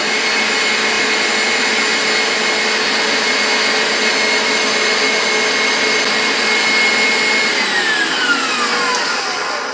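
An electric hand mixer beats egg whites into meringue for a cheesecake topping, a steady loud whirring motor hum that holds for about ten seconds, with a pitch that glides lower near the end.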